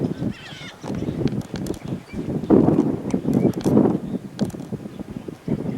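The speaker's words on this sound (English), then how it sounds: "we're actually up on top of the tree and the wind is blowing" Gusty wind buffeting a treetop lodge in Kenya and shaking the wooden structure, with irregular rumbling roars and rattles, close and fairly loud, plus scattered creaks and knocks.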